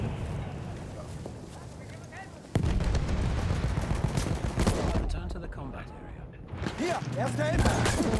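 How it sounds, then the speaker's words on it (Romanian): Cannon blasts and rifle fire from a Battlefield 1 Conquest battle on Monte Grappa, a dense, continuous barrage of loud shots and booms with a sharp jump in intensity partway through, while a player talks over the din. "M-a tras cu tunul în inimă."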